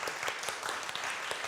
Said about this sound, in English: Let's give them a big applause too.